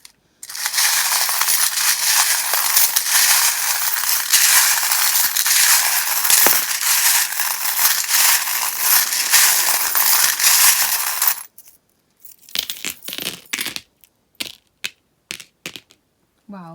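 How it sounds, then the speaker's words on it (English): Tarot charms are shuffled in a loud, dense metallic rattle for about eleven seconds, then give way to a few scattered clinks and taps, with no talking. "if you don't like the sound of the charms, or if you have the volume very loud or are wearing headphones, you might want to turn it down while I shuffle them"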